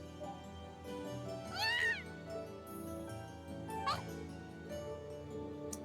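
In the Trails of Cold Steel video game, a cat gives two short, rising meows over a soft, steady background music bed, with no talking.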